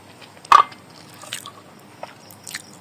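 Soft, close chewing and a sharp bite on a mouthful of beef curry with broth, potato and garlic, a few quiet squishy crunches spaced over a few seconds.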